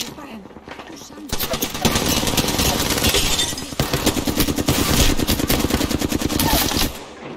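Sustained automatic gunfire in the battle royale game Apex Legends, loud rapid bursts rattling almost continuously after the first second, with brief gaps between strings of shots.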